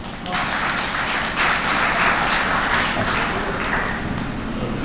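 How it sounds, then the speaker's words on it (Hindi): An audience at a Hindi kavi sammelan poetry gathering in Bhiwani applauds, with dense, steady clapping that starts abruptly and holds for several seconds, fairly close and loud. "आप ताली बजाकर समर्थन देंगे"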